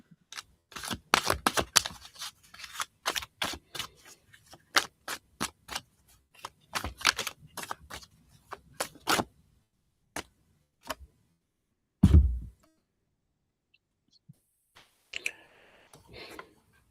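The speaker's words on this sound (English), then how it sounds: "I'm going to shuffle again." Tarot cards are shuffled in rapid bursts of crisp riffling clicks, pausing briefly, then a soft thump and a few scattered taps, with no speech.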